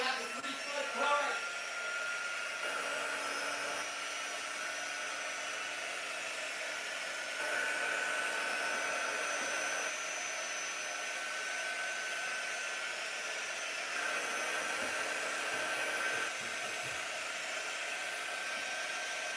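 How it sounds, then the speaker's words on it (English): A hair dryer runs continuously with a steady high whirring blow, its pitch shifting slightly between settings. "Your dryer was stuck on a shelf."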